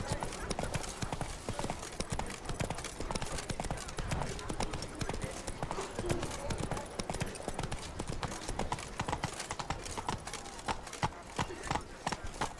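Horse hooves clip-clop steadily in The Witcher video game as the horse runs, a continuous brisk rhythm of hoofbeats mixed with game sounds and a voice speaking over it.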